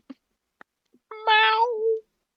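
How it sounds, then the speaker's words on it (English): A cat howls from the far side of a closed door, a few faint knocks or thumps coming first and then one drawn-out, rising and falling yowl of about a second. "There's just the howling of a cat who is on the wrong side of the door."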